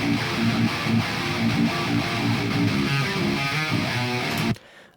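Double-tracked metal rhythm guitar through Ignite Amps VSTs plays heavy palm-muted chugs in a tight driving rhythm, loud and dense, stopping abruptly near the end with no talking.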